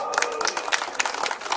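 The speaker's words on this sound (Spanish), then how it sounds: "Aplausos." Audience at a boxing event in Santa Cruz claps in a brief, dense burst of applause, steady and fairly close throughout.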